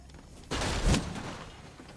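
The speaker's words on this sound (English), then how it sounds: "Someone shot me" Gunfire striking the player in Fortnite arrives as a sudden loud burst of impacts with a heavy low thump at its peak, then decays into a rumbling tail under steady game background noise.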